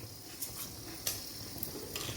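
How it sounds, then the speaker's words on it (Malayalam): Mustard seeds and fenugreek sizzling in hot oil for a fish pickle, a soft continuous hiss broken by a few sharp pops and light clinks of a spoon against the pan, close by. "ഇനി നമുക്ക് കടുക് പൊട്ടി ഉലുവ മൂത്തു"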